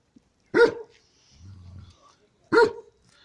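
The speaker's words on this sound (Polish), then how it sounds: "Duży pies, ładny." A large dog on a beach gives two loud, sharp barks about two seconds apart, close by, with a low rumbling murmur in between.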